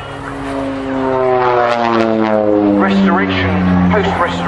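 An OV-10 Bronco propeller aircraft at the RAF Waddington airshow drones loudly overhead with a steady, harmonic propeller hum that shifts in pitch as it passes, while an announcer talks over it.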